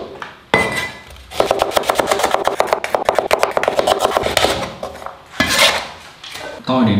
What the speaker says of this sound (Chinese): 切一点葱姜蒜，